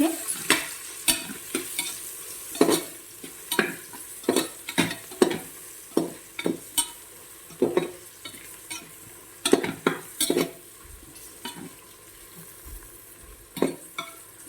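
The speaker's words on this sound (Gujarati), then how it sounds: "આ બધું સારી રીતે મિક્સ કરી દેવાનું" Repeated scraping and clinking of a spoon stirring garam masala into a pot of cracked wheat and moong dal khichdi, irregular strokes over a soft background sizzle, close by, no talking.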